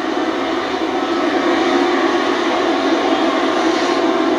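Air Force One, a large presidential jet, taxiing on arrival at an airport in Canada, a steady, fairly distant engine whine and roar that swells slightly toward the end, with no talk.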